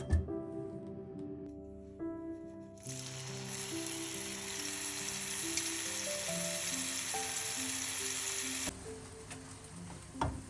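Eggplant for balado hits hot oil with a chili spice paste of shallot, garlic, curly red chili and bird's eye chili, setting off a sudden loud sizzle that holds steady for several seconds over soft background music, then cuts off.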